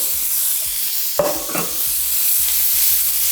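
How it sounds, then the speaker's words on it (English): Onion, celery, pimento and sweet pepper sauté in a hot pan, a steady close sizzle with a couple of stirring scrapes, no talking. "I like to saute my aromatics first"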